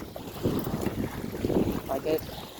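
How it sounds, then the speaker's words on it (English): Gusty wind buffets the microphone at a humid, stormy shoreline, producing uneven rumbling bursts that swell and fade over a few seconds with no other clear sounds. "I don't know if you guys can hear the wind. It's a little bit windy."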